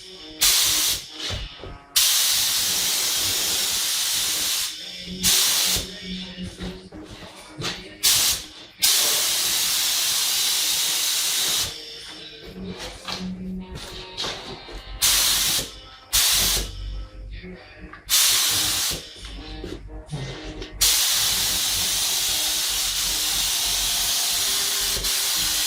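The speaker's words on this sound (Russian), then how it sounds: "заполнили бачок краской, начинаем наносить краску" A spray gun hisses in repeated bursts of a few seconds each as it lays paint onto a car fender, starting with the inner openings, with short quiet gaps between passes.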